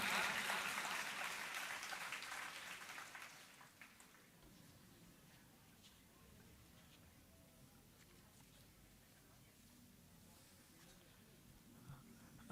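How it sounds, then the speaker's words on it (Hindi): An audience applauds at a birthday celebration during the Chetana Divas event at Shantikunj, Haridwar. The dense, fairly distant clapping is strongest at first, then thins and fades into quiet hall ambience. "जोरदार तालियां"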